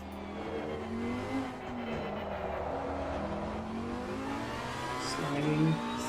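A Lamborghini GT3 race car in a sim racing game at Monza, engine droning and revving steadily through gear changes, loud and continuous with faint speech blended in.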